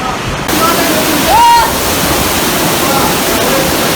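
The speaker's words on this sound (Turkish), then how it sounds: "Muazzam bir şelale var. Akıntı, inanılmaz bir akıntı var." Waterfall and fast, powerful current in Şahindere canyon roar as a loud, constant wash of rushing water, with a brief vocal tone rising over it near the middle.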